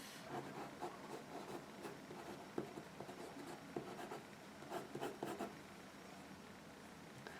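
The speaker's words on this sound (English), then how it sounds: "I'm drawing a flower. And I'm drawing a leaf." A pen or pencil moves steadily across paper while a flower and a leaf are drawn, making a soft, continuous scratching and rubbing with small strokes, close and quiet with no talking.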